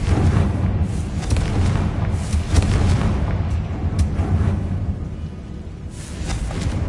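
A Confringo fire spell detonating in a Harry Potter video game, a loud sustained rumbling blast with crackling bursts that rolls on for several seconds and slowly tapers.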